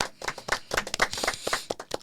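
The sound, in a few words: studio audience clapping hands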